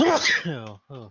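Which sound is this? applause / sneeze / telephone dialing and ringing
sneeze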